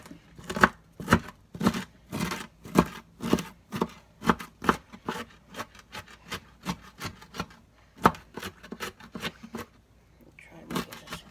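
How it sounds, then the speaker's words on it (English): Knife chopping cabbage for coleslaw on a board, a steady run of sharp, close rhythmic chops with short pauses, loud and near, with a brief break before the last few strokes. "Do some rough chopping"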